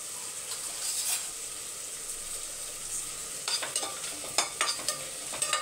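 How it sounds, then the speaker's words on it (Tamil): Four dried red chillies dry-roasting in an empty pan give a faint, steady hiss, with a handful of sharp scraping clicks from stirring toward the end. "இப்போ காஞ்ச மிளகாய் 4 மட்டும் வெறும் சட்டியில் வறுத்துக்கலாம்"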